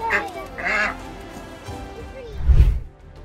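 A duck freed from a struggle with a snake under a car gives a few short, nasal quacks near the start, followed by a louder, low rumbling burst, with faint voices in the background.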